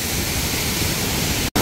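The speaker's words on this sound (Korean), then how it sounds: "이게 이제 폭포에서 내려가는 물이에요." Heavy flow of water plunging from Hongryong Waterfall on Wonhyo Mountain in Yangsan, a dense, steady roar of falling water filling the whole span, broken by a split-second dropout near the end.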